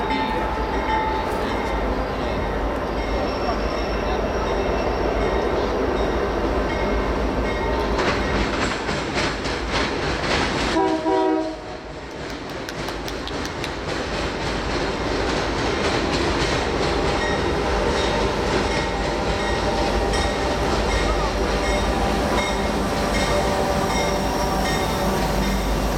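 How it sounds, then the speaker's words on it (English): A Union Pacific freight train rolls past in Rochelle, Illinois, a loud continuous roar of wheels and cars with steady clattering, a brief squeal and dip midway, then the rumble carrying on strong to the end. "another freight train coming"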